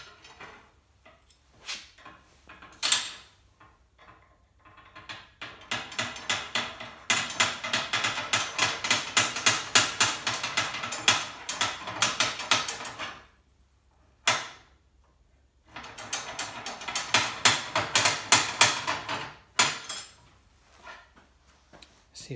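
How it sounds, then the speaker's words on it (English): A small triangle file rasps back and forth over a metal thread in a window well repair, with fast repeated scraping strokes in several bursts separated by brief pauses, close and fairly quiet. "just a little triangle file"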